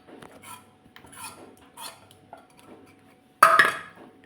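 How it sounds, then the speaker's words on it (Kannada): A utensil scrapes and stirs in a pot as ground rice is mixed into boiling milk, making a few separate rubbing strokes followed by one sharper, louder clank of metal near the end. "ನಾವು ಆವಾಗ ಗ್ರೈಂಡ್ ಮಾಡಿ ಇಟ್ಟಂತ ರೈಸನ್ನು ಈಗ ಹಾಲಿಗೆ ಹಾಕಿ ಮಿಕ್ಸ್ ಮಾಡೋಣ."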